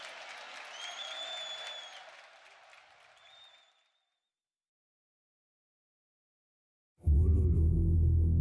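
A live crowd at the Red Bull Wololo Londinium finals, an Age of Empires II tournament, applauds for about four seconds and fades away. Silence follows, then a sudden loud, low rumble.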